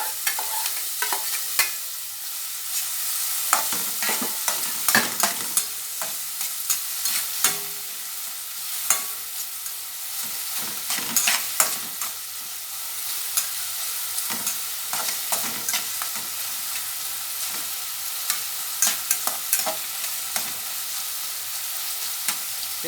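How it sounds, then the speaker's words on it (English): Garlic and onion frying in a pan while being stirred constantly, a close sizzling hiss punctuated by frequent irregular scrapes and taps of the utensil against the pan, no talking. "I keep on stirring it because I'm going to get out the flavor out of the garlic and the onion"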